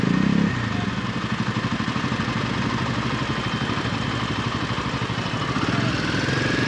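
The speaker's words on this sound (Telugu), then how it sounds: "ముందు వెళ్తున్నాయి చూడండి బైక్స్." Motorcycle engine noise on a road during a solo ride, a steady mid-pitched drone with rattling texture and wind rumble that holds throughout without pause, loud and close.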